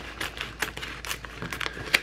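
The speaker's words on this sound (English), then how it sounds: "I'm just going to cut what I need off the application tape" Application tape is pulled and cut off a roll at a packing desk, making a quick series of close, dry crinkles and sharp snips spaced unevenly over a couple of seconds.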